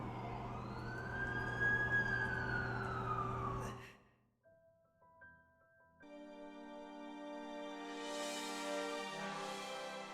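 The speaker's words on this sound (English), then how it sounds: "That's the ambulance I called." An ambulance siren wails in The Amazing Spider-Man 2 video game, a loud, steady rising and falling tone for about four seconds, then a brief pause before a fainter, higher electronic tone continues.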